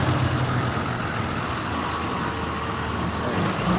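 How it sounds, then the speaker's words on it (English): A big yellow bus pulls away outdoors near grass, its steady low engine rumble and road noise filling the scene at close range, with a brief high hiss partway through. "see the bus is leaving?"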